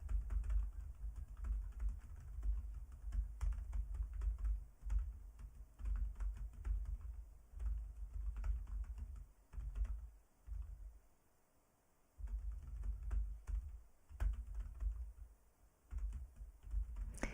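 Steady keystrokes on a computer keyboard during a typing practice program, a continuous run of quiet, close clicks with a brief lull partway through and no talk.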